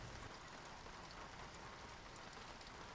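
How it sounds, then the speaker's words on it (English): Soft rain patters evenly on a surface, a faint, continuous hiss of drops with no pauses or voices. "Warm steam and soft rain held the marble bath through the night."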